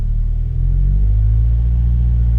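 A Subaru BRZ engine idles at steady revs, a constant low rumbling hum with a slight shift in tone partway through, close and unbroken, no voices.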